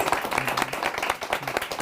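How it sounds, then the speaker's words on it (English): Applause from a seminar audience at a university science, technology and society department talk, a short burst of scattered hand claps at moderate volume with no voices. "So let's give her a round of applause."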